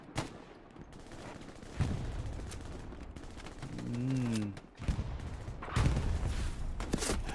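Bursts of gunfire in the Hell Let Loose video game, set in Carentan, ring out through a noisy battle scene, with several separate volleys over about seven seconds and a brief tonal game sound in between.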